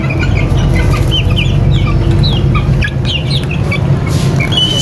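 Kanawayon chicks and chickens cluck and peep in a busy farmyard chorus, with frequent short, high calls scattered over a steady low rumble, close and loud throughout.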